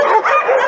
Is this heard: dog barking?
yes